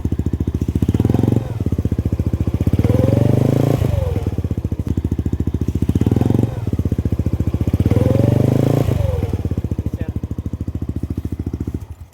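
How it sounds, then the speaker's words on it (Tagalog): A Yamaha NMAX 155 V2 scooter engine idling and revving with a steady, buzzing pulse, a thin whistling whine from the magneto riding over the rough mechanical drone. "mayroong sumisipol sa magneto. Eto nga, pakinggan nyo."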